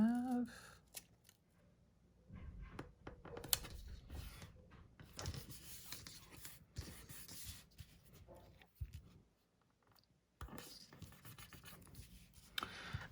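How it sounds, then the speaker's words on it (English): Scissors trim a paper box for a gardening-themed August Happy Planner spread, with close, soft intermittent snips and light paper rustling and scraping at a desk. "I'm going to trim this box"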